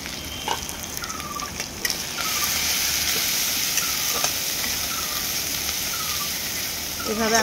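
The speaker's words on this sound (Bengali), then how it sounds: "এভাবে আমি এটাকে এখন ভাজা হতে দেব, মশলা গুঁড়োগুলোকে।" Ground spices fry and sizzle in hot oil in a pan, a continuous close hiss broken by scraping stirs and a few clanks of the utensil against the pan.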